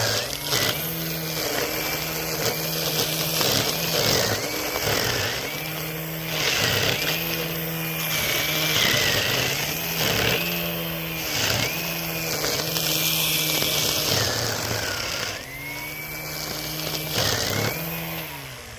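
A string trimmer fitted with stainless steel wire in place of nylon line runs at low speed, a steady whining motor with a bright high tone and rhythmic pulsing bursts as it cuts, fairly loud and close with no talking.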